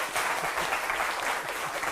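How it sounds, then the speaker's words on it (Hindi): Loud studio audience applause at a televised debate show, a thick continuous burst of many hands clapping close by, short and steady with no voices over it. "जरा जोरदार तालियां शहजाद जी के लिए।"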